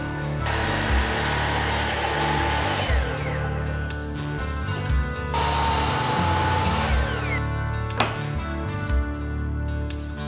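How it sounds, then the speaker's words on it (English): A miter saw cuts wooden bench legs to a 16-inch length. The loud, close whine of the motor spins up and down through two cuts, with a steady rhythmic thumping underneath and no talking. "I'm gonna start by cutting the legs to length. They're all 16 inches. And I'm gonna use the built-in stop function on my miter saw"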